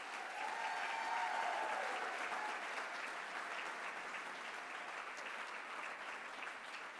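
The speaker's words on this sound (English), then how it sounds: "please, another round of applause for all of our candidates." A crowd at a county Democrats gala gives the candidates a continuous round of applause, an even wash of clapping heard from a distance, fairly faint and steady throughout.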